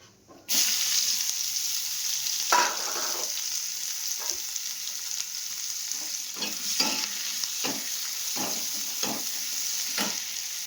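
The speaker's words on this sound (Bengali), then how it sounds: "ওই তেলে দিয়ে দিয়েছি সাদা জিরে এবার দিয়ে দেবো পেঁয়াজ কুচি" Chopped onions and white cumin fry in hot oil left over from frying eggs, giving a steady, close sizzle that is interrupted by repeated scraping strokes of a stirring spoon.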